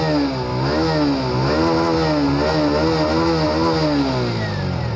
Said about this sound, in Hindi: एग्जॉस्ट की आवाज़ काफ़ी दमदार है